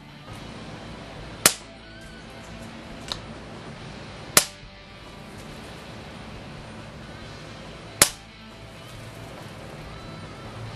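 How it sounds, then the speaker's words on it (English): Daystate Huntsman Classic air rifle firing during a sound test, four sharp cracks spaced a few seconds apart over a quiet background. "Now we're going to do a sound test on the Daystate Huntsman Classic."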